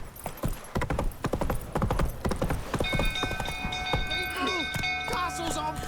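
Roach, a horse in The Witcher 3, gallops with dense, rhythmic hoof clip-clops that are loud and close, and steady music-like tones come in about halfway through.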